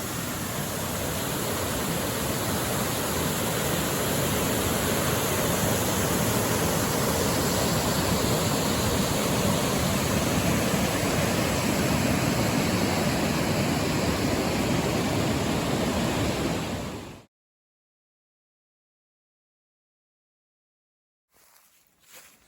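A waterfall along the Appalachian Trail roars as a loud, steady, broadband rush for about seventeen seconds, then cuts off abruptly to silence, followed by a brief faint noise at the end.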